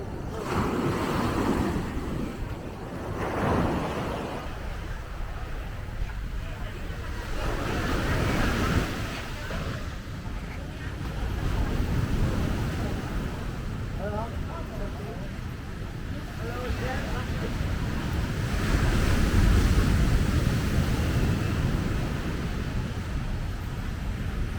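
Ocean waves at Kuta Beach in Bali surge and wash in a steady broad roar that swells and recedes, with wind buffeting the microphone throughout.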